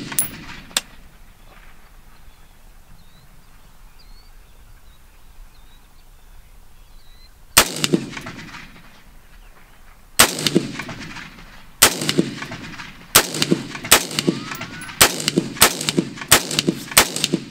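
A rifle being sighted in outdoors: after a quiet stretch, sharp cracking gunshots ring out, first spaced apart and then in a quick run of rapid shots, loud and echoing.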